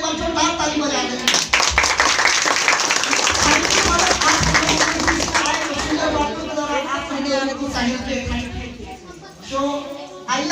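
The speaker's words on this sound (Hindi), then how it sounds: "तो हमारे फादर जी एक बार जोरदार ताली बजा दें।" Loud audience applause at a Christmas gathering led by a priest, dense clapping filling most of the stretch with voices and talk mixed in throughout, thinning slightly toward the end.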